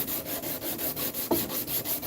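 Hand-sanding a carved wooden cane with 100 grit sandpaper: quiet, rhythmic back-and-forth rasping strokes, about four per second, close by, with one brief knock partway through, no talk.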